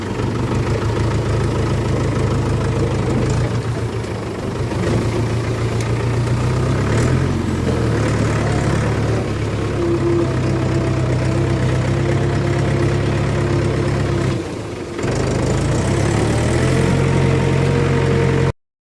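A tractor tipper's diesel engine idles steadily after starting on a farm during corn harvesting, a loud continuous low rumble with a brief dip near the end and no talking.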